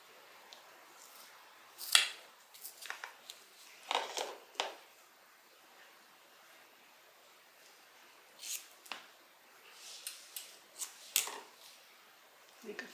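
Scissors make quiet, scattered snips while trimming fabric for a quilted tote bag, a series of short crisp cuts in bursts with pauses between them, close and soft.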